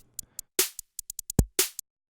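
A trap beat playing in Ableton with the EQ preset switched off, a deep booming kick hit under short crisp hi-hat ticks and two bright snare or clap cracks, all tight and punchy.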